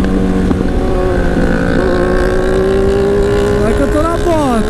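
A Kawasaki Z1000 motorcycle fitted with a new exhaust rides at close range with a loud, steady engine drone. The pitch climbs toward the end, and a voice talks over it.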